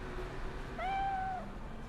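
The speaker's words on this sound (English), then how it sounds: "It's a cat. Pet the cat." A cat in the video game Cyberpunk 2077 lets out one clear, drawn-out meow, close and distinct against a quiet low background hum.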